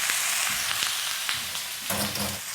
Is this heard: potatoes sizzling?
yes